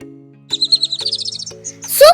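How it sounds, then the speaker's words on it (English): A kestrel gives a rapid series of high, sharp, repeated chirping notes over soft background music, followed by a brief different call at the end. "kestrel"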